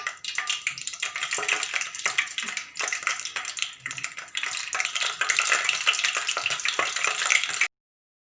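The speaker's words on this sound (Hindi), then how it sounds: "ऑयल हमारा गर्म हो चुका है। अब इसमें हम चिकन के पीसेस डालते हैं।" Chicken pieces shallow frying in hot oil make a dense, continuous crackling sizzle close by, with scattered pops and stirring scrapes, steady throughout before cutting off at the end.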